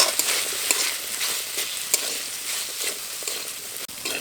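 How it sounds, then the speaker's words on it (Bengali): Potatoes and eggplant sizzling in a pan after ginger-garlic paste, a continuous close frying hiss with occasional clicks of a spatula against the metal. "এখন দিয়ে দেবো আলু এবং বেগুন।"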